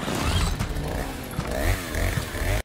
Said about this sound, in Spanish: Y de repente sale este con la motosierra